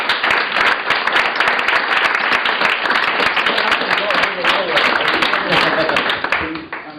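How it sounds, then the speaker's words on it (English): Sustained audience applause at a presentation event, dense steady clapping from a sizeable crowd filling the room for about six seconds, with some voices talking underneath, then thinning out near the end. "So big round of applause."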